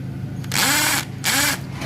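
A Ryobi cordless drill set to hammer mode for masonry runs in two loud bursts of about half a second each, separated by a short pause, with a rapid hammering rattle above the motor whine.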